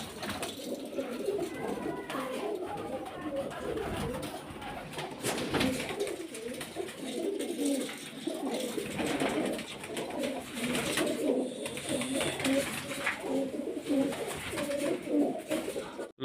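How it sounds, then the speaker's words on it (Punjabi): Steady soft cooing of pigeons being fed grain in a village, several birds overlapping continuously, with people talking nearby in the background. "ਇਧਰ ਕਬੂਤਰ ਆ"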